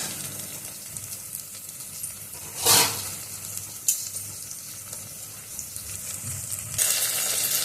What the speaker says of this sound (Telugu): మనము పచ్చిమిర్చి వేపితే ఎట్లా వేస్తామో అట్లా మంచిగా వేగాలి